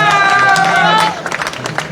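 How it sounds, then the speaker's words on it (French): A roadside crowd at the Tour de France claps and cheers, a tonal whistle or shout rising over it at first, then the applause thins into scattered claps. "Bravo, on peut l'applaudir."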